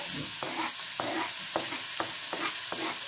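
Chopped onions frying in a pan for chicken gizzard bopis, a bright constant sizzle cut by a regular rhythm of spatula scrapes roughly every half second, close and without speech.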